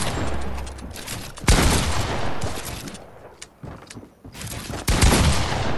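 Loud, close gunfire from a Fortnite match, with bursts of rapid shots and a few sharp blasts that fit a pump shotgun, separated by short lulls and heard without talk.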